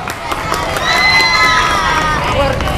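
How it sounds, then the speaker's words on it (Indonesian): A group of schoolchildren at a morning assembly claps and cheers loudly together, with excited children's shouts rising over the applause. "beri tepuk tangan"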